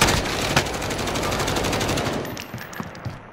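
Rapid automatic gunfire from a video game match, dense bursts of shots running steadily for about two seconds, then thinning into a few isolated bangs before fading out.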